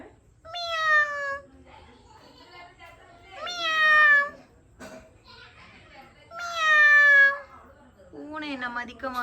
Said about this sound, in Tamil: வெளியே வந்துட்டு குட்டியாக ஒரு பூனைக்குட்டி இருந்துச்சு